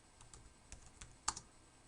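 Someone types on a computer keyboard with a few light, scattered keystrokes and one sharper click near the end. The taps are soft and close in an otherwise quiet room, and no one speaks.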